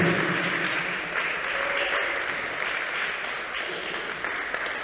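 A crowd at a jazz concert applauds steadily throughout, a dense wash of clapping that holds at an even level from start to finish.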